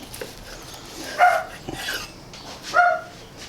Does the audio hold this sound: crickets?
no